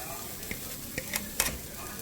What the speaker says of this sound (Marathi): घालता हांव थोडेशें जिरा घालता जिरा पावडर अशें ताका फ्राय करून घेवया